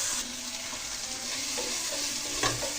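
Small tomatoes sautéing in oil for a squid roast make a steady, close sizzle with a faint soft scrape of stirring near the end.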